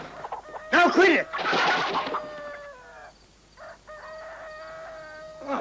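A rooster crows several times in a Spaghetti Western setting, loud and near, with long drawn-out calls and shorter clucking notes between them.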